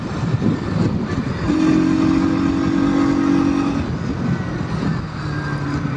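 A 2024 Bajaj Pulsar NS200, a 200cc motorcycle, cruises in fifth gear at over 70, its engine and exhaust giving a loud, steady drone that holds throughout with a slight rise in pitch partway.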